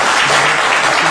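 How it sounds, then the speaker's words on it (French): Audience applause welcoming a provincial deputy candidate onto a political interview stage, a dense, steady wash of clapping filling the whole moment with a faint voice underneath. "Bienvenue à vous, on applaudit."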